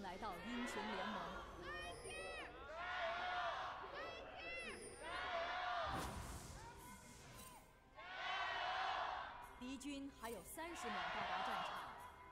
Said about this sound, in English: Love to hear the crowd alive